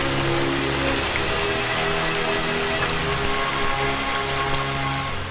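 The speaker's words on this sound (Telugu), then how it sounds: "ఈరోజు కురుస్తున్న ఈ వర్షం" Heavy rain pours steadily and loudly, a dense unbroken hiss of drops striking surfaces with no voices over it.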